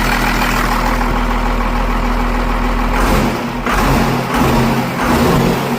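A 12-valve Cummins diesel engine paired with a Ford 5R110W transmission idles loudly and close with a steady low rumble, its pitch shifting slightly about halfway through.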